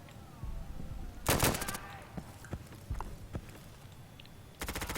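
Video game gunfire during a competitive esports match comes in two loud rapid bursts of automatic fire, with scattered single shots and clattering impacts in between under a low background hum.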